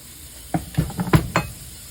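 Onions hitting hot oil in a pan, a few close clanks and scrapes from a utensil with a soft sizzle underneath, brief and alone.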